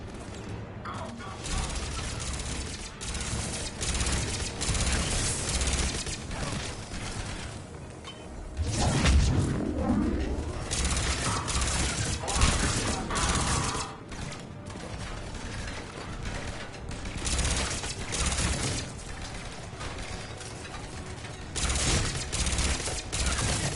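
A sustained firefight in Mass Effect, dense overlapping gunfire with booms, mechanical clanks and whooshing effects rolling on steadily throughout.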